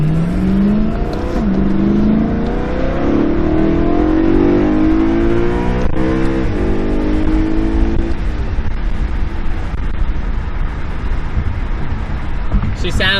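BMW E92 M3 with a modified aftermarket exhaust accelerating on the road, engine note rising steadily through the gears with loud, raspy exhaust drone, then settling into a steady cruising hum with road noise.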